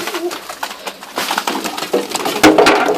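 Pigeons on a balcony coo repeatedly nearby, soft throaty calls overlapping with rustling and wing flutters, fairly loud and close.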